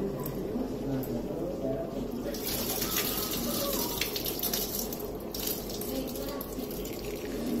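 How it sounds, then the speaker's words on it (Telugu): Water runs steadily into a sink as excess water is drained from a pot of chicken pulao, a continuous splashing flow close by with faint voices in the background. "ఇది ఎక్స్ట్రా వాటర్ తీసేద్దాం"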